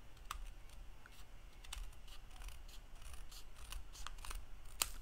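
Scissors trimming the overhanging edge of a paper stencil, giving faint, close, irregular snips and crisp clicks over a quiet background.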